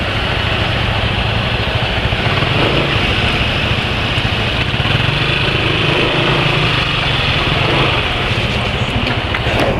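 A motorcycle engine idles steadily just after an oil change with X-TEN 20W50 JASO MA oil, a loud, close, continuous mechanical hum that stays even throughout, with no talk.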